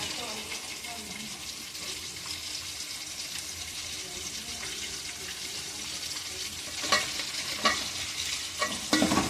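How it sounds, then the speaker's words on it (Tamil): Vegetable rice with pepper powder is stirred in a sizzling pan, a steady frying hiss with scraping and clinking spoon strokes growing busier toward the end. "நல்லா கிளறி விட்டுக்கிடுவோம்"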